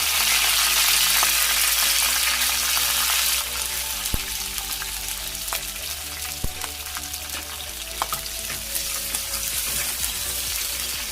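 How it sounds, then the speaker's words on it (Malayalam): Curry leaves and green chilies sputter and sizzle in hot coconut oil with mustard seeds for a coconut-based fish curry, a steady close frying hiss with sharp pops and crackles, the hiss easing slightly partway through as the heat drops. "നമുക്കിനി കുറച്ച് കറിവേപ്പിലയും പച്ചമുളകും കൂടി ഇട്ട് കൊടുക്കാം."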